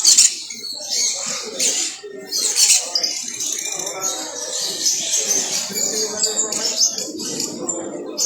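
Caged cockatiels, lovebirds and other birds at a bird fair in Lawrence, Kansas chirp and squawk in a steady, busy chatter, with bright calls repeating throughout and a seller talking over them.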